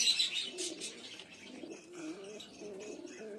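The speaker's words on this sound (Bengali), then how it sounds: "এই পায়রা কিন্তু পুরো হলুদ চোখের পায়রা।" Yellow-eyed pigeons in a breeding loft coo softly in low, rolling phrases that repeat over several seconds, with a few faint chirps and rustles nearby and no voices.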